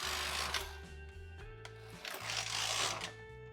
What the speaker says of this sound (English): now I'm going to knit 2 more rows just as normal